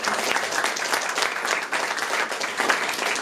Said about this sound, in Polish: no brawa dla Stefana, ponieważ to był taki dobry duch.